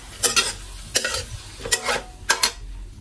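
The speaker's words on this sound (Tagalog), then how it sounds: "Tapos, ating haluin lang po yan." A utensil scrapes and stirs food in a sizzling pan, four quick bursts of stirring over a low steady fry, close by.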